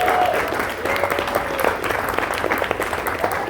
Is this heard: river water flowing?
no